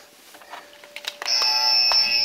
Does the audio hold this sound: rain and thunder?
no